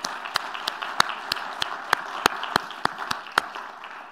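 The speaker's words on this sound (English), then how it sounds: "I think they deserve a good applause." Scattered, sparse applause after a closing talk at a physics event: a handful of sharp, separate claps at an uneven pace, moderately close, with no voices over them.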